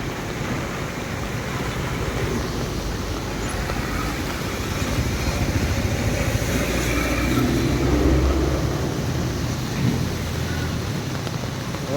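Flood water runs during heavy monsoon rain in Nepal, a constant loud hiss and rush with a low rumble swelling briefly partway through, and no talking.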